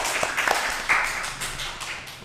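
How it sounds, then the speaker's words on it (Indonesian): A school audience at a student leadership talk claps for a student named Teguh, with scattered handclaps and taps that thin out and fade, no voices over them. "kita kasih tepuk tangan dulu untuk Teguh"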